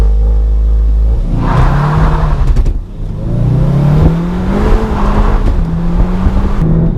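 A Seat Leon Cupra 290 engine rumbles and revs with a deep, throaty exhaust note, rising in pitch several times over a steady low drone, loud and close.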